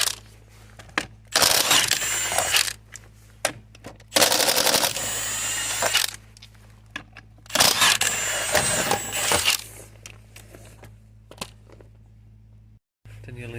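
A socket wrench loosens the 17mm wheel nuts on a Vauxhall/Opel Astra during front brake pad and disc work, giving three loud bursts of rapid mechanical rattling separated by quieter gaps over a steady low hum.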